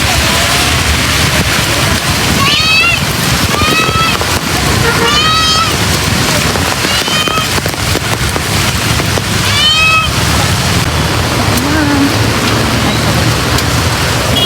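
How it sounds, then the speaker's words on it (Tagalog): Heavy rain hisses steadily and loudly over everything, a dense unbroken roar of downpour, while a voice talks over it and a few bird-like chirps sound intermittently. "Grabe ang ulan."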